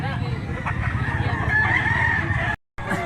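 A silver grey bullstag gamefowl crows at a busy Mantalungon, Cebu fowl market, a single drawn-out call heard over other birds and crowd chatter, with people talking nearby.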